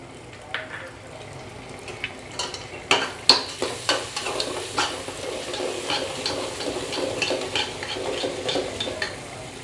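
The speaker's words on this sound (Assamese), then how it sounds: "ডালি দিম ডালি আৰু অলপ ফ্ৰাই কৰিম" Lentils with bay leaf, cloves and cardamom frying for chicken dalcha, a soft sizzle under a run of sharp spoon-against-pan clinks from stirring, with some quiet background voice.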